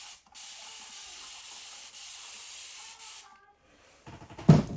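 A spray bottle mists freshly planted plant clones with a soft, steady hiss of a few seconds, then falls quiet before a short rattle of handling noise at the end.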